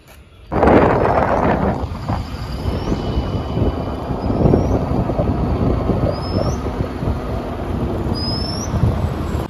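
A motor scooter ridden toward a market carries a steady engine drone with heavy wind buffeting the microphone, starting abruptly and continuing loud and close throughout.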